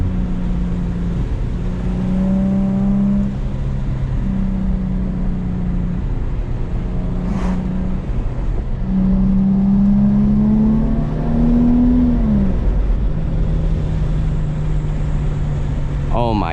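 2007 Infiniti G35 engine revving while driving, a loud close drone that climbs and falls through gear changes, rising in pitch on throttle then dropping as gears shift.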